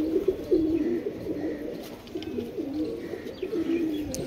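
A green pigeon hen coos in soft repeated rolling phrases close by, steady and unbroken, with faint chirps in the background and no talk.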